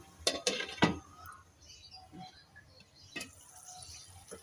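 A few sharp metallic clinks of cookware, then a lid settling onto a pot of bottle gourd and chana dal with a clatter, close by and fairly loud.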